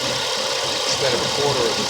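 A 1990s Toyota engine idles steadily during an A/C recharge, giving a low, even rumble with a faint mechanical rattle, close by and continuous under someone talking.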